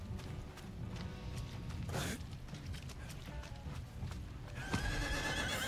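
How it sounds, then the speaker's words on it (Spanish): A horse neighs and gallops in the Diablo 4 video game, steady hoofbeat clip-clop running throughout with a sharp whinny partway through, over game background sound. "Caballito."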